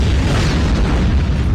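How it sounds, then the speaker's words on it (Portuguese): A loud, deep rumbling blast from an explosion in the mobile shooter Call of Duty Mobile, played in multiplayer mode; the roar fills the whole moment with no talk over it. "Explosão Master"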